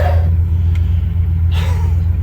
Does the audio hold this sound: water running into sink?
no